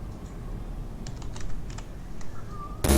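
Keys clatter on a keyboard in the horror game Amanda the Adventurer, with a run of quick, light clicks in short bursts over a low background hum, ending in a sudden loud burst.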